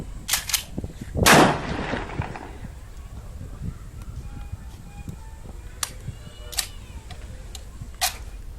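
Gunshots ring out outdoors, two quick cracks followed by a heavier blast with a lingering rumble, then scattered sharper reports spaced out over several seconds, heard at some distance with faint background noise.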